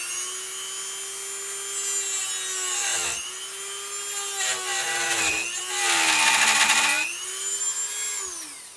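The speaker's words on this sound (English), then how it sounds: "I'm going to drill down through here." A drill bores down through a carved wooden figure, the motor's steady whine shifting in pitch as the bit bites and eases through the wood, with gritty grinding bursts mid-way; no one speaks.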